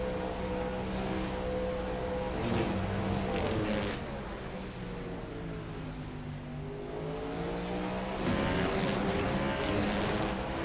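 A race car in a racing video game brakes hard into the braking zone toward turn 20 at Bahrain, its engine note dropping through downshifts and then rising steadily as it accelerates out, loud and continuous with no voices.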